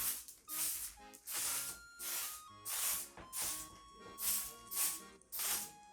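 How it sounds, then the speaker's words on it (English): A can of hair spray sets a styled anime-look men's haircut, giving about eight short hissing bursts in a regular rhythm with brief quiet gaps between them, close and clear. "I think the spray is important for this hairstyle"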